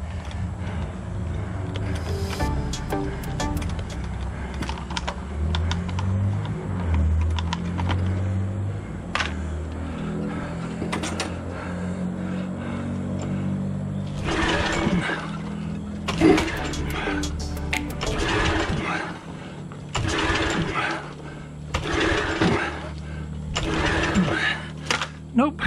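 Repeated attempts to start a post hole digger engine bring bursts of cranking and sputtering that fail to catch, with pauses between and someone talking throughout.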